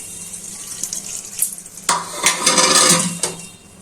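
Broth splashed into a pan of cooked-down masala for a snake gourd and small shrimp curry, a brief watery pour with a rising hiss and a few metallic pan clinks, close by.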